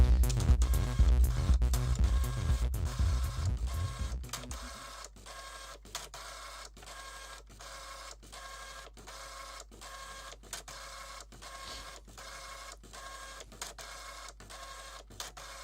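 Printer running during a microscope test, loud rhythmic mechanical pulsing for the first few seconds, then a quieter steady hum punctuated by regular clicking ticks as the print head moves, with no talking.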